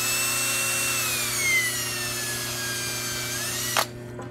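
Power drill boring into a spa spinner jet assembly during a repair, a steady high whine held for several seconds that slowly drops in pitch under load before stopping abruptly, close and alone.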